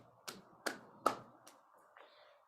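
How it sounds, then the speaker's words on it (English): Hands clap during a yoga class, heard as four or five sharp, evenly spaced claps roughly every 0.4 seconds, fairly quiet in a calm room, with a soft faint sound at the end. "palms in, clap"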